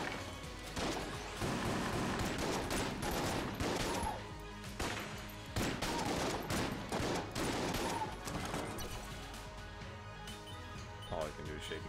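Rapid volleys of shotgun fire in the bullet-hell game Enter the Gungeon, dense overlapping blasts and crashes repeating across the whole stretch, loud and close, with game music and effects mixed in.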